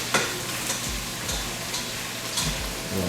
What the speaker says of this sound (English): Mix this up.